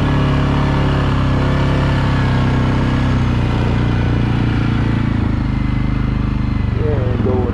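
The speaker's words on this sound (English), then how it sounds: "Engine braking is pretty nice on this King Quad." A Suzuki King Quad 750 ATV riding over gentle hills, its engine droning loudly and close in a steady, even hum with only slight shifts in pitch as it slows under engine braking.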